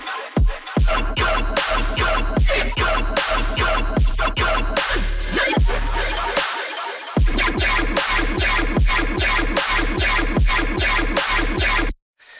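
A loud, dense dubstep drop built from Serum synth basses pounds with heavy rhythmic bass hits and gritty mid-range growls, dropping out briefly near the middle before slamming back in, then cutting off at the end.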